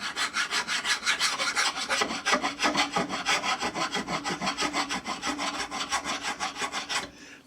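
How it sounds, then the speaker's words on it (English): Hand file run across the top of a low-cost mill vice to remove burrs, a close, rhythmic series of about two dozen rasping strokes, alone and steady. "So I'll just run this file across the top."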